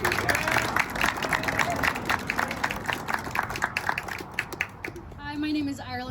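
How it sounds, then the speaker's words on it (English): Applause from an outdoor crowd at a one-year anniversary ribbon cutting for a bridge connection, steady dense clapping for several seconds that thins out near the end as a voice begins to speak. "And another round of applause for Karen and Gary"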